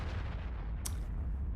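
A single artillery shot fires in the World of Tanks video game, a sharp booming report that rings out briefly over a steady low engine rumble.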